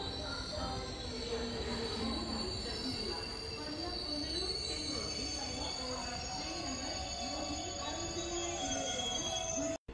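A train coach pulls into a station in Kerala, its wheels squealing loudly against the rails in wavering tones over a steady rumble, with voices faintly audible beneath the noise.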